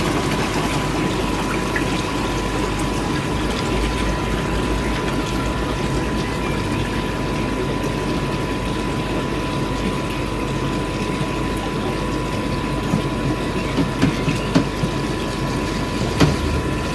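Water runs through a koi pond filter system with a Nexus filter and Cetus sieve after a valve is opened, a continuous close rush and pump hum with a steady tone and occasional small splashes near the end.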